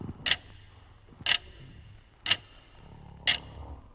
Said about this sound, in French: en écoutant la grande horloge du salon égrener les secondes